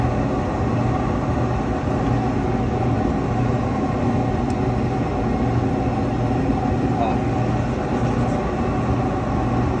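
Blower of a Diedrich IR-12 coffee roaster running with the gas on, a steady loud broadband rush with low rumble that holds evenly throughout.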